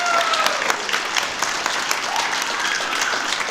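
An audience claps together for about three seconds to vote at a college budget forum, steady applause from a room full of people with some scattered voices mixed in.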